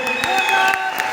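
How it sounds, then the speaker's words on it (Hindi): Audience applause at a Safe Shop national convention in Jaipur, steady clapping from a large crowd filling the hall, loud and close, with tonal hum and brief voice-like bursts mixed in. "एक जोरदार तालियों के साथ"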